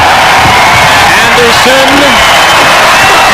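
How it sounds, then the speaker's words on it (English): A large SkyDome crowd roars at a Toronto Raptors versus New Jersey Nets basketball game, a dense sustained cheer with whoops, heard under a commentator's voice. "The crowd rises in the Skydome."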